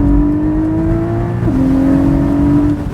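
A Porsche GT sports car, a 718 Spyder or 981 GT4, revs hard through a gear change, its steady engine drone dropping briefly at the shift and climbing again, loud and close from inside the open-roof car.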